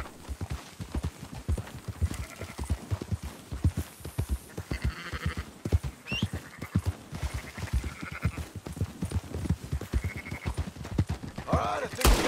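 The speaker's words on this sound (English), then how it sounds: "Marston, why don't you leave the sheep to me?" Hooves clip-clop in a steady rhythm while sheep bleat now and then during a livestock round-up in Red Dead Redemption 2, with a low voice speaking under it.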